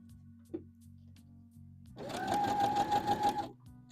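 A sewing machine runs a seam at 5/8 inch on a McCall's M8141 dress, one steady close burst of rapid stitching lasting about a second and a half, framed by quiet room hum.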